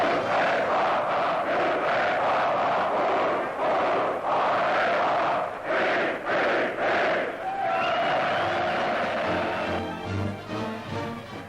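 A crowd of 35,000 at an Army-Navy American football game in Sydney roars loud and sustained, with surging waves of cheering and shouts that thin toward the end.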